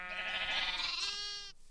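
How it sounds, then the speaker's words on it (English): A single drawn-out sheep bleat from Minecraft, a clear nasal wavering cry lasting about a second and a half, close and alone, ending abruptly. "A rainbow of sheep."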